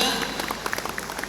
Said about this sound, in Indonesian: Tepuk tangan ya Mas Bowo.